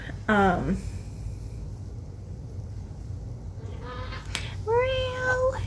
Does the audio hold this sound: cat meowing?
yes